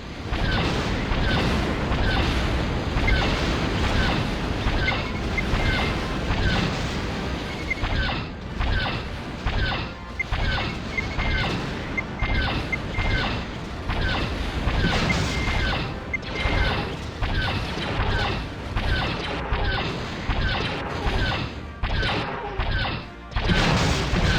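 Torpedo explosions in a space combat flight game, a dense run of loud, booming blasts and crashes hitting in rapid succession for the whole stretch, close and heavy, with no voices.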